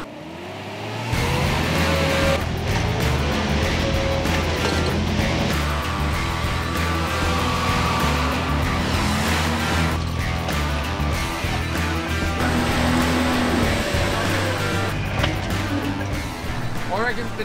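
Toyota Landcruiser 4x4 trucks, an FJ45 and an LC79, rev hard and strain through a muddy hole, the engine rising and falling in pitch over a sustained roar while people talk over it.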